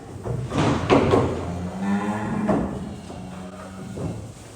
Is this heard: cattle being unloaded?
yes